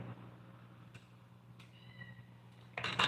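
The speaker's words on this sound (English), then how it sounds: "that's the same cat. Just loud. She's looking for her mother or looking for food." A cat meows indoors, first a faint short meow, then a sudden loud, close meow at the end, over a low steady hum with no talking.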